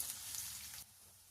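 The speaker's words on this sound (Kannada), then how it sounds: "ನೀಟಾಗಿ ಫ್ರೈ ಮಾಡ್ಕೊಳ್ಳಿ." Soft sizzling of green chillies and a large onion frying in a pan, a faint crackling hiss that eases off near the end.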